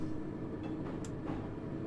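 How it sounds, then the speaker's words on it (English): A London Underground 1973 stock train moves in Train Simulator 2018, giving a faint, steady rumble with light rail clatter and no talk. "do I hear a train? Hello, 1973 stock that's actually moving."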